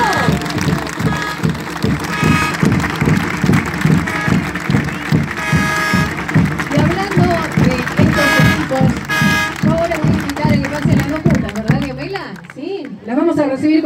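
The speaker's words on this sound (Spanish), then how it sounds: "Aplaudimos a esta gente más fuerte" An audience at a community event in Arroyito claps in sustained, dense applause with rhythmic clapping. Speech overlaps the clapping, which thins out toward the end.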